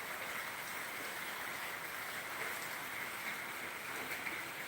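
Heavy rain pours down in a steady, dense hiss that stays even and unbroken throughout, moderately loud with no voices.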